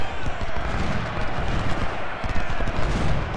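Dense, continuous rattling musket volleys and booming cannon fire from an American Civil War battle at Gaines Mill in the strategy game Ultimate General: Civil War, loud and unbroken throughout.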